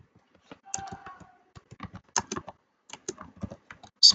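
Typing on a computer keyboard, irregular bursts of close, crisp key clicks with short pauses between them, ending in a sharper louder tap.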